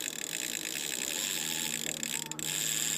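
A fishing reel's ratchet clicks in a fast, steady buzz as a fish takes line out on a Norwegian fjord, close and fairly quiet, with a brief break near the end.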